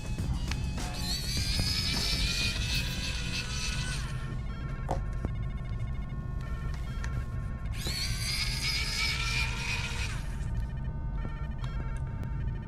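A small electric screwdriver removes screws from the top port area of a PS Vita PCH-1001 handheld, whirring in two high-pitched bursts of about three seconds each, separated by quiet fiddling clicks.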